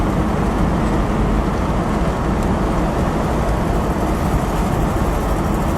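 A 1959 Pontiac Bonneville Tri-Power convertible cruising along, its broad, steady engine and road rumble filling the ride with constant wind-washed noise and no talking.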